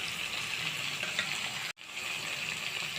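Potatoes and eggplant fry in a pan with a steady, close sizzle that drops out for an instant midway before resuming at the same level.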